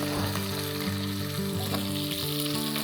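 Meat browning in a hot pan for plov, a dense close sizzle with a low steady hum and occasional stirring scrapes, no voices.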